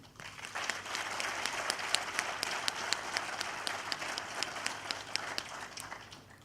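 Warm audience applause at a conference session, steady and even throughout, heard from a distance at fairly low level.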